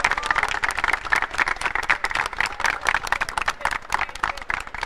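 Applause from a team of MIT World Peace University robotics contestants clapping for themselves at the ABU Robocon 2023 national contest, a dense, steady patter of many hands lasting throughout with crowd noise mixed in.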